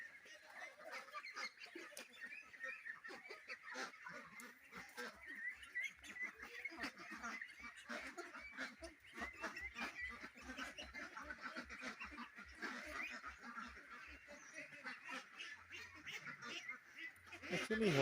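A flock of white farm ducks, fed on grain, quack and honk continuously in a busy, overlapping chorus close by for the whole stretch, with no one speaking.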